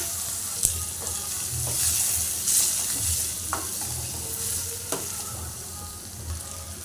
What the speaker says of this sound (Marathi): आता कांदा घालूया आणि तो घालून परतून घेऊया